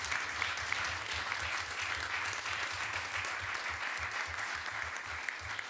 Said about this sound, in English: a round of applause for their students that provided so much help